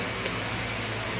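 An electric fan running indoors gives a steady, even whoosh of airflow that holds constant throughout, with no voices over it.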